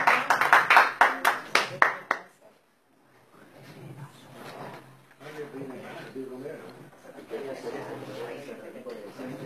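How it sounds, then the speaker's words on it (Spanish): At a tango venue, the Meson Carlos Gardel, a small audience gives the singer a short burst of distinct claps. The clapping stops abruptly, then a voice talks over faint room sound. "la recibimos con un fuerte aplauso"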